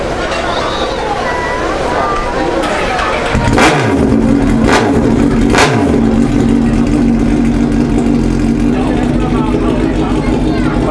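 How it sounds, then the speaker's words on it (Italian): A motorcycle engine is held at full throttle near a racing circuit, a loud steady roar with a few sharp high rev spikes in the middle, while people talk nearby. "Accendiamo la moto e per 58 secondi gas a martello"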